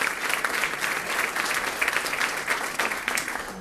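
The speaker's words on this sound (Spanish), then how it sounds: "Un aplauso para Walter, muy bien." A church congregation at a Lent Sunday Mass gives a round of applause, a continuous, fairly loud wash of many hands clapping with no one speaking over it.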